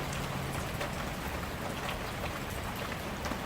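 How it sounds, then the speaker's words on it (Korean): Steady rain falls continuously on a country house yard, a dense hiss of drops pattering on surfaces, fairly close and even throughout. "빗소리가 참 좋더라고요"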